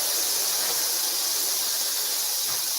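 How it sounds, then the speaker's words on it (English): Meat and onion sizzle in a hot frying pan, making a steady, loud, unbroken hiss close up, with no talk over it. "nice sizzle"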